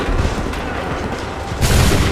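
Muskets fire in a volley during a battle in Assassin's Creed III, heard as loud sustained booming blasts that swell into a heavier burst near the end.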